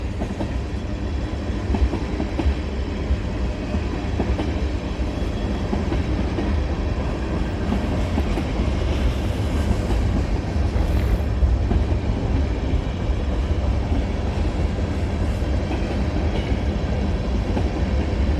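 A long BNSF freight train rolls past close by, a loud steady rumble and grind of wheels on rail with faint clickety-clack, continuous and unbroken throughout, no voices.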